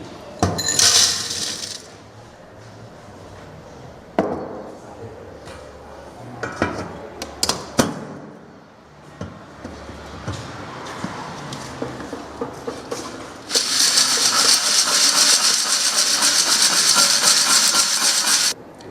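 Aggregate shaken in a 2.36 mm metal sieve gives clattering, rattling grit against the mesh, with intermittent knocks and taps and a loud sustained sifting rush toward the end.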